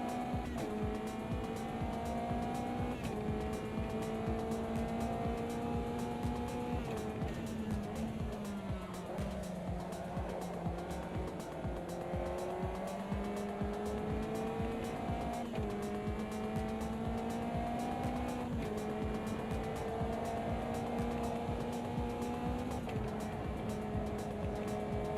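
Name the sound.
race car cornering on a track with throttle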